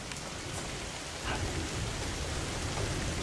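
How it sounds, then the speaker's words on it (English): Steady rain falls during a severe thunderstorm, a dense continuous hiss of drops hitting surfaces outdoors, loud and unbroken throughout with no voices. "I can confirm it's raining"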